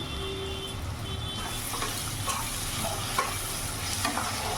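A spice paste of ginger, chilli and garlic fries in a pan over a medium gas flame for a Bihari-style chicken dish, giving a steady close sizzle with scraping stirs throughout.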